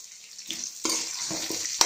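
Chopped onions hitting hot oil in a pan while cooking mango chitranna, a soft sizzle swelling up suddenly partway through and continuing as a steady frying hiss with light stirring clatter.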